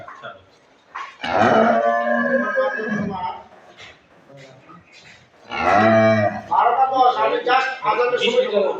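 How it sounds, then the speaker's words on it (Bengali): A cow with her newborn bull calf on a farm at Gabura, giving two loud close moos separated by a pause. "ষাঁড় বাচ্চা।"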